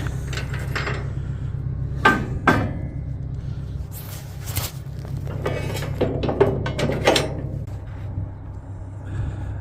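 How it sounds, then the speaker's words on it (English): A heavy steel pin being set down and dropped into place on a stepdeck trailer, with a few sharp metallic clanks and knocks over a steady low engine rumble outdoors. "I'm going to set this down and put the pin in."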